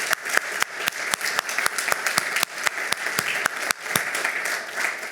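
Brief applause from a startup pitch audience, a sparse patter of individual claps at moderate distance, fairly quiet and thinning out near the end.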